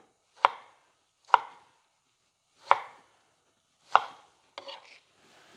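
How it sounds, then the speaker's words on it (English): A knife chops olives and parsley with garlic and thyme on a board: four sharp, evenly spaced cuts close by, followed by a quicker flurry of lighter chops, with no talking. "I'm just going to quickly just slice this up a little bit more."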